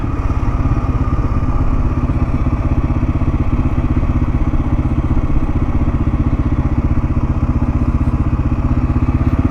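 Kawasaki KLR-650 motorcycle riding in the outback, its single-cylinder engine a loud, steady throbbing rumble with wind noise, continuous for the whole stretch and no talk.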